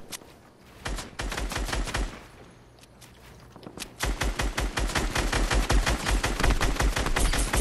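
Rapid automatic gunfire bursts in the Fortnite video game, loud and close, with a short lull before a long sustained volley of shots; no talking.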